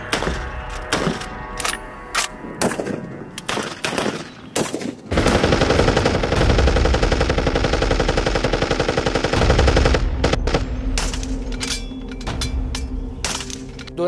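Colt machine gun firing in a Mexican battle reenactment, loud close bursts of rapid automatic fire, first broken into short volleys and single cracks, then a long sustained burst, followed by scattered shots.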